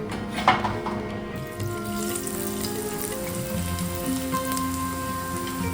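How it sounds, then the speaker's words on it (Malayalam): Cauliflower pakoda frying in hot oil over a medium flame, a steady dense sizzle and crackle close by, with a brief louder splash near the start and no talk. "എണ്ണ ചൂടായിട്ടുണ്ട് ഇനി നമുക്ക് കോളിഫ്ലവർ ഇട്ട് കൊടുക്കാം"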